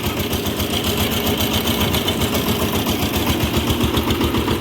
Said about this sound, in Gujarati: હવે ટ્રેક્ટર લઈને અમે ઘેરે જાય છે